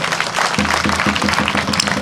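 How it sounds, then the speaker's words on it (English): Members of the Osara community, gathered at a cassava city project event, applaud themselves in a loud, sustained ovation of many hands, with a faint low voice and crowd murmur running beneath the clapping. "Please clap for yourselves."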